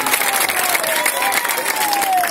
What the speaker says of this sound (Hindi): निकले जोरदार ताली